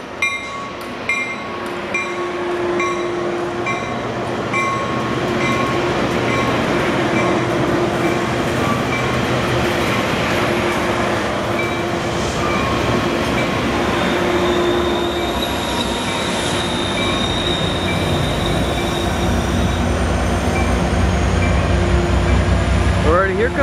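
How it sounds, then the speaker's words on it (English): A Metrolink commuter train, pushed by locomotives 885 and 891, pulls out of Solana Beach station with a loud, close rumble of cars, wheel squeal and rail clatter building steadily, and a voice talks over it. "A Metrolink departing from Solana Beach."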